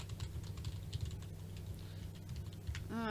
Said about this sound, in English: see if I can type it in